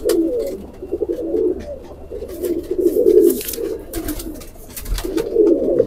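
Rampuri pigeons cooing close by, soft repeated throaty coos in rolling bursts over faint background noise.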